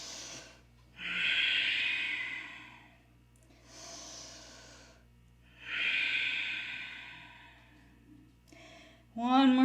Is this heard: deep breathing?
yes